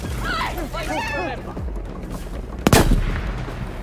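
In Battlefield V multiplayer, a single sharp gunshot cracks out loudly after someone speaks over steady background game noise, shooting at a grenade thrown in the air.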